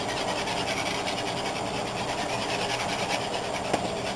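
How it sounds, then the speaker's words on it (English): Turkey gravy being whisked in a pan to break up lumps, giving a steady, continuous scraping and rubbing sound that runs throughout at close range with no talking. "And just keep whisking. All of those lumps are going to go away."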